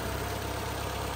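A 2009 Toyota RAV4's 2.4-liter four-cylinder engine idles steadily under the open hood, producing a smooth, even, moderately quiet hum that holds throughout without change.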